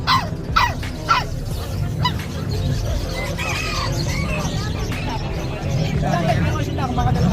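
Bulldogs bark in short bursts amid a noisy outdoor crowd at the Bocaue pet market, with people talking and pigeons, chickens and other animal calls nearby.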